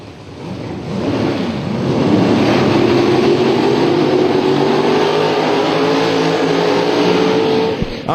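A nitrous-fed big mountain-motor 1963 Corvette and a second drag car launch side by side at an NMCA drag strip, a loud sustained engine roar that swells after the first second, then holds steady and fades off as they pull away.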